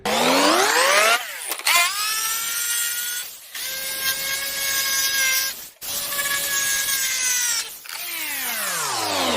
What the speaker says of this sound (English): I've followed the edge of the mitre with the jigsaw